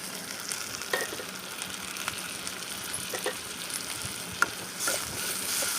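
Tomatoes with onion and green chilli frying and being stirred in hot oil for a squid gravy, a steady sizzle with scattered scraping clicks from the spoon, close and fairly loud, no voices.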